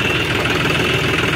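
An American 4x4 tractor's engine runs steadily at idle, a constant low knocking rumble with a bright mechanical hum, close and loud with no talk.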